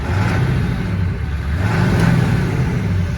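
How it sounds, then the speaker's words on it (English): Ford F-350 pickup with a 7.3 Powerstroke diesel engine revving, a loud steady low rumble with gentle rises in pitch as the throttle is blipped, close by with no talking. "Go inside and give it a few revs for you."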